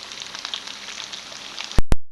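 Food frying in hot oil gives a steady, close sizzling hiss with small pops, followed by two sharp clicks near the end.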